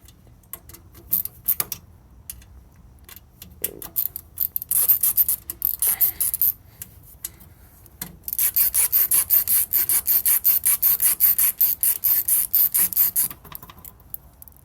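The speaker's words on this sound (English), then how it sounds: "let's remove this floppy drive. We have some screws right here." Screws are unscrewed to remove a floppy drive from old electronics, with scattered clicks and scrapes first, then a long run of rapid ratcheting screwdriver turns, close-up and fairly sharp, with no talking.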